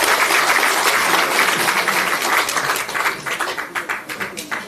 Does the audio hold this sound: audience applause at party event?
yes